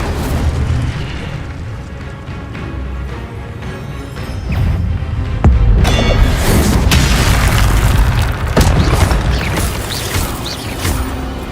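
An Incendio fire spell is cast in Hogwarts Legacy with a loud whooshing burst of flame. It is followed by a sustained roaring, crackling rush among other combat effects, and no voices are heard.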